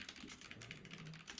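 Rapid typing on a computer keyboard, a dense continuous run of soft key presses, close and fairly quiet.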